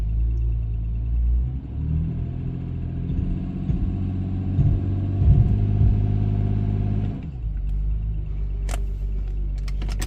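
A 2007 BMW 335xi engine revs under boost, a heavy, loud, close rumble that swells and then drops off before a few light clicks.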